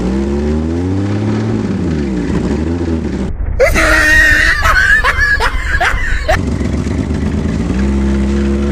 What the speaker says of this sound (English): right now I'm about to hold the clutch and put in first gear, see if it moves